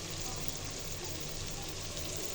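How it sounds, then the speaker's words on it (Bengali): Beaten egg fries in a little oil as it is stirred and scrambled, giving a steady, even sizzle with no pauses and no voices. "সামান্য তেল দিয়ে এখন যে ডিমটা আমি ফেটিয়ে রেখেছিলাম সেই ডিমটা দিয়ে দিচ্ছি পাশে। ডিমটাকে সরিয়ে স্ক্র্যাম্বল করে নিব।"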